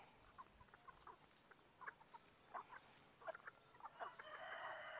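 Native chickens cluck in short, scattered bursts around a chicken farm, several birds calling close by over a faint background hiss.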